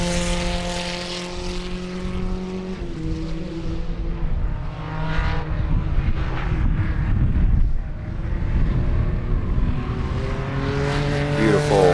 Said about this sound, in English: let us know if you can hear the race cars.